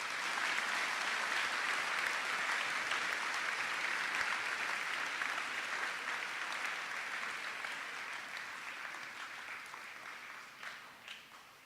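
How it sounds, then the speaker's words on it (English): A large audience applauds at a 2022 senior awards ceremony, a dense, steady wash of clapping that holds evenly for several seconds and then gradually thins and fades toward the end. "Let's give these gentlemen a round of applause."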